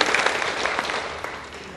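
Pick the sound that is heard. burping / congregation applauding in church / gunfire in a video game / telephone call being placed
congregation applauding in church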